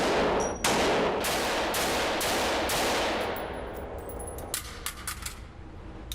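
Rapid gunfire at an indoor shooting range inside a Federal Reserve facility, a string of loud sharp reports in quick succession with a ringing echoing tail as the shots stop, no voices.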